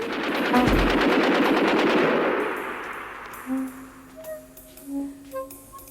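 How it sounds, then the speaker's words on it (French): A heavy machine gun sound effect from a radio drama: a loud, rapid, continuous burst of fire lasting about three seconds, then a fading rumble with faint tonal sounds after it. "À la mitrailleuse lourde, ça fait réfléchir."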